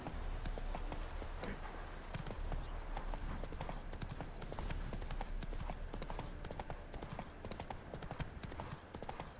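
Roach, Geralt's horse in The Witcher 3, trots continuously with quick, even clip-clop hoofbeats over a dense game soundscape, steady and fairly close throughout.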